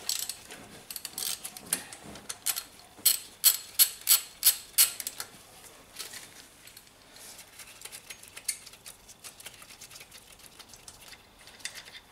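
A deep 12mm socket on a ratchet wrench undoes the idler pulley of a 10-year-old Volvo S40/V40 petrol engine during a timing belt job, giving a close run of sharp ratcheting clicks, then looser clinks of metal on metal.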